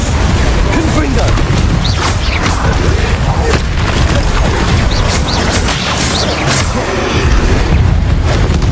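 Confringo explosive spell blasts in the Hogwarts Legacy video game, loud rumbling booms and crashes layered over continuous dense game noise, with a voice talking over the action.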